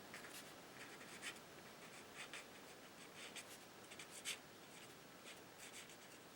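A pen writing a greeting on a paper card, a close, quiet scratching of strokes in short bursts with brief pauses, alone without speech.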